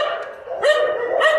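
Stray and disabled dogs at a dog rescue foundation in Ban Fang, Khon Kaen, giving two or three sharp barks in quick succession over a continuous whining or yipping background, loud and close.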